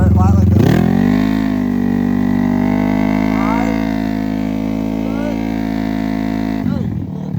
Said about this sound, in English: Hey, lightly do your burnout.